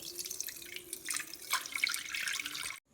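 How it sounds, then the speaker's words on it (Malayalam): Coconut water being poured through a sieve to catch debris, a steady close trickle and drip of liquid that runs without pause and then cuts off abruptly near the end. "അതുകൊണ്ട് നമുക്കൊരു അരിപ്പ് വെച്ചൊന്ന് അരിച്ചെടുക്കാം കരട്"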